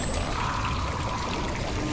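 A magic water-fountain spell effect in an animated cartoon gushes as a steady, loud, continuous rush of water with a thin high tone running through it.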